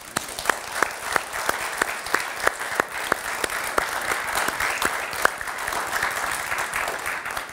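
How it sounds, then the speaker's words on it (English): An audience at a corporate pitch competition applauds the presenters, a loud, sustained burst of clapping with a few sharp, distinct claps standing out near the front. "Big applause to the excellent pleadings,"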